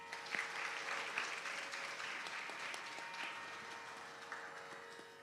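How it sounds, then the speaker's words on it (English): An audience at a Bharatanatyam dance recital claps steadily for the orchestra, a dense wash of applause that holds throughout and slowly tapers toward the end. "let's give him a round of applause"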